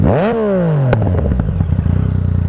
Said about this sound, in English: I'll give you a little bit of a rev up to 6 as well